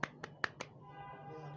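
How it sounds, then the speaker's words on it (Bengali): A few quick, crisp claps or snaps ring out in a quick burst of about four, close and sharp, then give way to a quiet, faintly humming room. "হাততালি"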